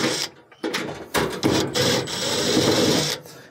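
Phillips screws being backed out of the rear mounting points of an oven broil element, a run of scraping, rubbing metal-on-metal and tool sounds with short pauses, close and moderately loud with no talk.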